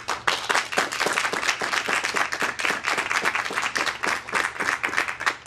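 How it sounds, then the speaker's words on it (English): A town hall audience breaks into dense, sustained applause, many hands clapping at once in an even, continuous roar that holds for several seconds. "Those who believe yes, please applaud."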